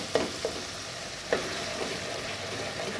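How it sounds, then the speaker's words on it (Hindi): Onion and tomato masala for an egg and potato gravy fries in a pan with a steady low sizzle, while a spoon stirs and mashes it in a few sharp scraping knocks. "अब बस इसको थोड़ा सा मैं भून लेती हूँ"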